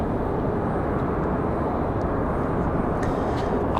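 Airliner departing Raleigh-Durham airport for Fort Lauderdale, a loud, steady broadband jet roar filling the whole stretch without letting up, heard from an outdoor spotting position.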